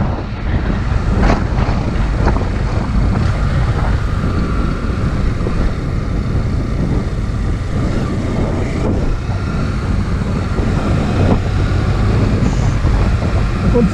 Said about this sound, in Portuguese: Tá ventando muito forte